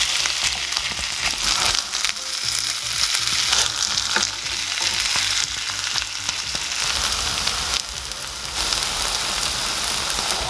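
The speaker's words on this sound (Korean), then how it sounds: "밑면이 노릇해지면 뒤집어서 중약불에서 구워줍니다." Shredded sweet potato pancake topped with mozzarella fries in a pan over medium-low heat, giving a dense, steady, close sizzle that fills the whole stretch with no talking.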